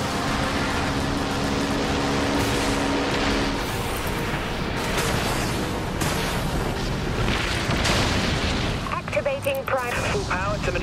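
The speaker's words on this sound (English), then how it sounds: "Launch torpedoes." Heavy booming blasts of torpedoes detonating in the naval combat video game Dreadnought, with a T5 corvette, rumbling continuously and layered under game voice lines.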